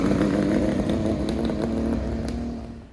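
Classic two-stroke motorcycle engine running at a two-stroke bike week gathering, a loud steady buzzing drone with slight rev fluctuations, close by and alone without talk, fading a little at the end.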